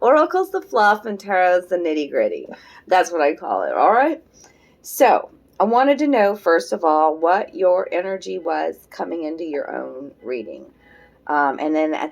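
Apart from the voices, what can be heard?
No distinct noise like a dog, phone or traffic.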